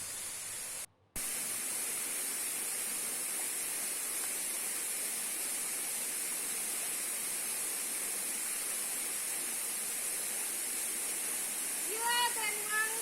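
Steady broadband roar of the waterfall at Curug Ciawi Tali in Cioray, continuous and fairly loud throughout, with a brief dropout near the start and a short voice near the end.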